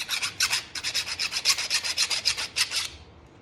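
Metal file worked over a John Deere garden tractor universal joint, about a dozen quick, bright rasping strokes in a steady back-and-forth rhythm, close and clear with no talk.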